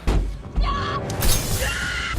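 A ninja knife punches through a car's glass window with a sharp shattering crash and scattered debris, loud and close, set against a dense, tense background.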